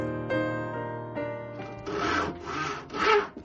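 A hand saw rasps back and forth through wood during a house renovation, a few rough strokes building in loudness near the end, close by with no talk.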